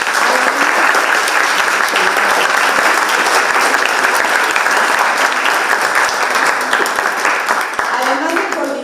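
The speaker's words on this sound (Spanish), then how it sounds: "También démosle un aplauso muy fuerte al maestro Guillermo Solís" Loud, sustained applause for teacher Guillermo Solís at an academic book presentation: a dense crowd clapping steadily throughout, close and full, with murmuring voices underneath.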